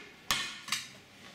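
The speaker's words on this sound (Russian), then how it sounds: "Плита разогрелась. Ставим кастрюлю." A pot is set down on a heated stove: two sharp metallic knocks, the second following about half a second after the first, close and clear in a quiet room.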